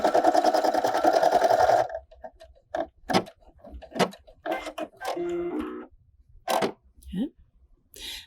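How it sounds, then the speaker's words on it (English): A Brother embroidery machine sewing an underlay stitch for applique hums in a loud, rapid, steady run for about two seconds, then stops, leaving scattered clicks and quieter intermittent sounds. "Now I was going to do the embroidery stitch. So the first one is the underlay stitch."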